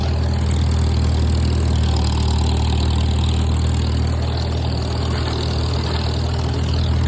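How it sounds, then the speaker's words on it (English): A Farmall M tractor engine runs steadily while brush hogging thick grass, giving a loud, continuous low rumble and mechanical drone that stays even throughout with no talking. "Farmall M has performed spectacularly."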